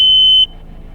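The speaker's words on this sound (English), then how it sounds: "Locks in place in the rotor, and then once it's ready to go, it's gonna chirp" Motorcycle brake-rotor lock alarm giving one short, high, clear electronic chirp as it arms, loud and close, then falling off to quiet background.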